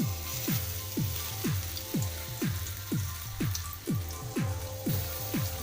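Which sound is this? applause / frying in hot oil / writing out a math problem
frying in hot oil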